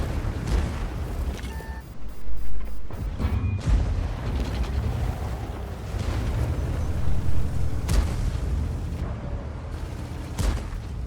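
Cannon fire and explosions from a T-10 tank in a tank battle video game: heavy booms and rumbling blasts recur at intervals over a dense mechanical din, some near and loud, others duller, with no voices.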